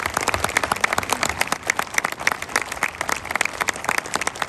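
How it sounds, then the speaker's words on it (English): Applause fills a US Marine graduation ceremony in San Diego, a dense, continuous patter of many hands clapping at once, loud and sustained throughout with no speech. "Let's give Thomas a round of applause."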